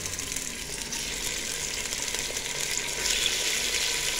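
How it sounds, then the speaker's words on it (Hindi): Steady, dense sizzling of chicken frying in hot ghee, a continuous crackling hiss with no voices. "चिकन को यहाँ पे अब हमने फ्राई करना है, अच्छे से फ्राई करना है।"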